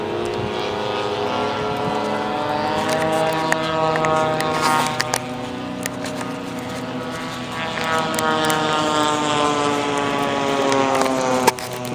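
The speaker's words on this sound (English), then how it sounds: "There's the Piaggio, that little Italian business jet that I showed you" An RC model Piaggio Italian business turboprop flies overhead at an RC airshow, its whining propeller tone sliding in pitch as it passes, steady and fairly close, with scattered clicks and faint crowd noise beneath.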